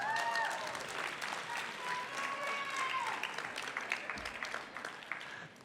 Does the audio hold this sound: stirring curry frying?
no